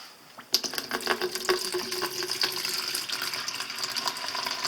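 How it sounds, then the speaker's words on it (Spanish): Purified water from a reverse osmosis tank emptied into a container, a sudden gushing pour that starts after a brief quiet moment and keeps up as a steady splashing stream nearby. "lo que voy a hacer va a ser vaciar completamente toda esta agua que se encuentra en su interior purificada"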